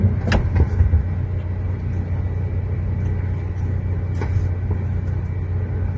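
A bus passes at moderate distance on a road, its low continuous engine rumble steady throughout, with a few faint knocks early on and no voices.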